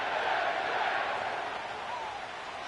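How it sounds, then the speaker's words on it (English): Stadium crowd noise from the Madden 25 football game at MetLife Stadium in East Rutherford, a steady roaring wash of many voices that holds loud and even throughout, fading only slightly toward the end. "The crowd is definitely ready."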